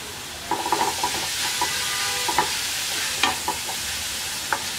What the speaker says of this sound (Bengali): চুলায় একটা কড়াইতে দিয়ে দিচ্ছি 1 কাপ নারিকেল কুড়া